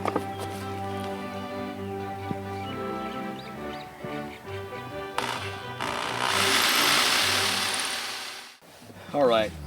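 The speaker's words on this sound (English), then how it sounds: "and drill it from the other side." A power drill bores through plywood and a 2x4 while building a wooden wedding arch: a whining, tonal motor hum gives way to a louder, grinding rasp, followed by a brief rattle.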